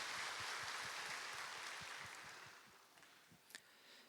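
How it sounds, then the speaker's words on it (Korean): A church congregation applauds during a Sunday morning worship service, a dense wash of clapping that gradually fades away over a few seconds, with a few scattered claps lingering at the end. "하나님께 영광의 박수 올려드리겠습니다."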